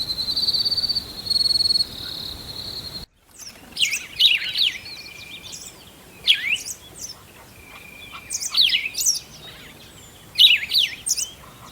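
Morning birdsong in a Beni Tal jungle, with bright chirps and trilled phrases from several birds coming in scattered bursts over a steady insect hum, the first few seconds dominated by a high buzzing drone.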